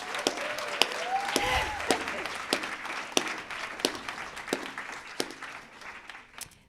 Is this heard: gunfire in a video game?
no